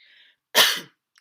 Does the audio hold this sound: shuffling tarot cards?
no